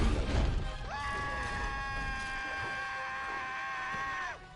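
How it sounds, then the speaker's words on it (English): Homer Simpson in the Lego Dimensions video game lets out a long, sustained guttural scream lasting about three seconds before cutting off, heard clearly over quiet game background. "That was a guttural scream from Homer there."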